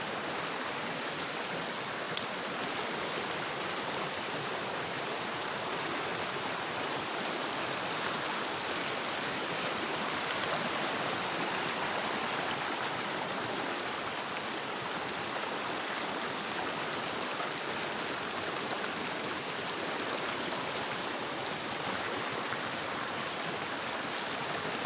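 River flowing along its bank, a steady broadband rush of water that stays even and close for the whole stretch, with no voices.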